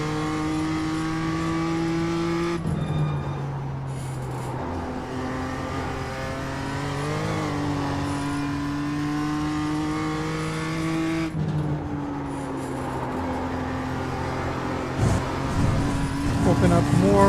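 BMW M2 engine on a lap of Lime Rock Park in iRacing, a loud continuous engine note rising and falling through gear changes and corners, with brief tire squeal, under a person talking.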